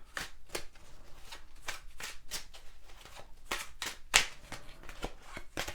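Tarot cards are shuffled and a card is drawn for a reading, a quick series of crisp riffling and slapping bursts, close and clear, with one sharper snap near the end and no talking.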